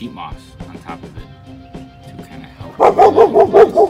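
A dog barks in a quick run of loud, close barks near the end, after a stretch of calm talking.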